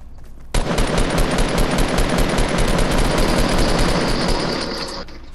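Rapid automatic gunfire in the Fortnite video game, a loud continuous burst of fast shots lasting several seconds before tapering off, with no voices over it.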